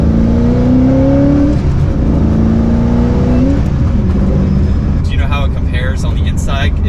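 Inside the cabin of a 2005 Ford GT, the engine hums steadily with rising and falling tones as it revs, fairly subdued from within, while people talk over it throughout.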